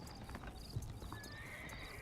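A horse in Red Dead Redemption: Undead Nightmare gives a whinny among a few hoof clip-clops, fairly quiet and mixed with soft game background sound.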